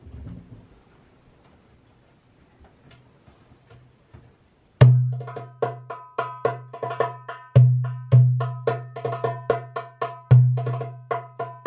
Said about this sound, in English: And on the tabla, it sounds like this.